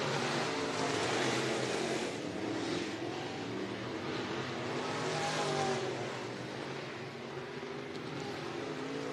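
IMCA Northern Sportmod race cars roaring around the dirt oval at Mohave Valley Raceway during a heat race, a steady loud engine drone that swells and fades as the pack circles, with no talk.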